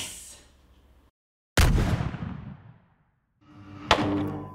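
A homemade shotgun axe fires a shell, a sharp loud blast with a decaying rumble, followed after a pause by another sharp impact amid clattering noise.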